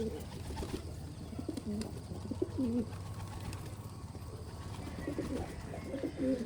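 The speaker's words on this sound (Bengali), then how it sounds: "সকল কবুতর খাওয়ার জন্য নেমে এলো" Several Giribaz pigeons coo softly in repeated low, warbling phrases while feeding, close by over a faint background hum.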